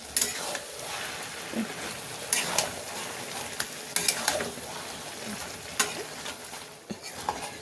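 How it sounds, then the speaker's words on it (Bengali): Water lily stem curry is stirred in a pan, with scraping strokes and soft clatters over a low, steady sizzle. The sounds come in irregular bursts and are heard alone at close range. "এইভাবে নাড়াচাড়া করে 5 মিনিট রান্না করে নেব"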